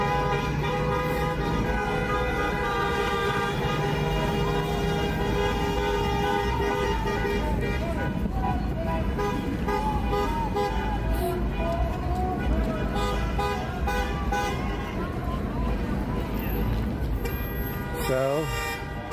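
Car horns honk repeatedly in dense New York street traffic, with steady engine and road noise throughout and voices in the crowd beneath.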